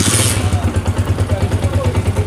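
A Honda CG125 motorcycle engine, freshly reassembled with silencer fitted and tappets set, runs after a kick start with a steady low, even thumping beat and a brief hissy burst at the very start.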